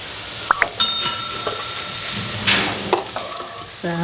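Banana flower cutlets fry in hot oil, giving a steady sizzle broken by stirring scrapes and a few clinks of a utensil against the pan, close and clear with no talking.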